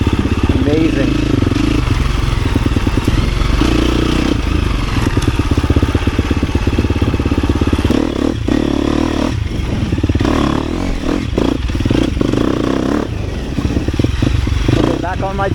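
A 350 dirt bike engine labors up a climb, revving and pulling hard with loud throttle swells, clattering and scraping from the terrain close by; no talk over it.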